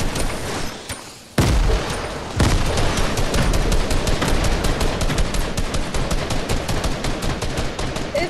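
Rapid gunfire in the Fortnite video game, loud bursts of shots that turn into a dense, sustained stream of cracks after a short pause, with no talking.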